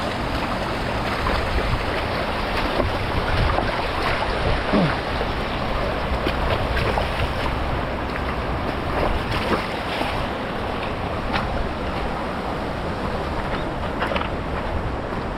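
Strong river current flowing steadily, a continuous rushing wash of water with gusty wind buffeting the microphone throughout, no talk.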